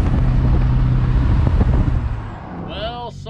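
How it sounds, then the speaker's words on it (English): A deep, rumbling truck engine with loud exhaust drones close by, fading slightly before a voice speaks over it at the end. "Listen to that freaking exhaust."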